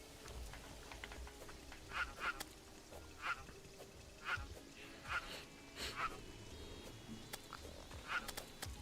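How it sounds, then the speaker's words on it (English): Duck quacks in Terraria, created by the game's developers, a series of about seven short nasal calls spaced irregularly over a soft game background. "I think this thing sounds like a duck."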